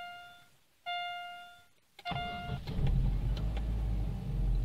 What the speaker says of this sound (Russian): Вот, двигатель завелся.